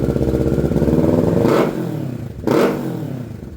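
A 2024 Kawasaki Ninja 650 with a Yoshimura full-system carbon fiber exhaust idles with a lumpy, loud rumble up close, then two sharp throttle blips rev the engine quickly up and back down.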